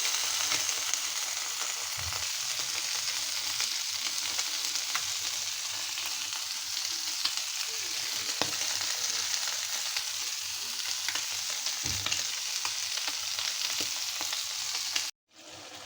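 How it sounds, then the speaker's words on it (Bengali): Continuous close sizzle of fish frying in oil, with occasional soft knocks and a short break in the hiss near the end. "এরকম মুচমুচে করে মাছ ভাজা করে খেয়ে দেখবেন।"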